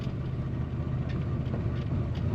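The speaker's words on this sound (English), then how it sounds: "there's that power again, and a nice rumble coming out the tailpipe" Deep, steady exhaust rumble from a 1930 Ford Model A pickup street rod on the road, a dense low throbbing drone that stays close and even for a couple of seconds with no voices over it.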